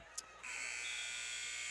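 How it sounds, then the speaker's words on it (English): A high school basketball game's quarter-ending buzzer blares as a steady, loud electronic tone, starting suddenly and holding for over a second over the gym's background noise. "Buzzer sounds, and that's the end of the third quarter."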